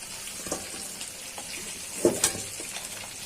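Broiler chicken pieces fry in a pan for a spicy chicken bhuna with peas, making a soft, continuous sizzle with a few light stirring clatters and ticks close by.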